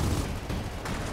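Continuous, loud gunfire from the Gears of War 4 video game, a dense roar of shots and combat noise with no pauses.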